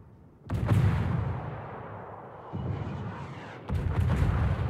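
Naval artillery fire in World of Warships, heard as heavy booming blasts at about half a second and again near 2.5 and 3.7 seconds, each followed by a sustained rumbling roar.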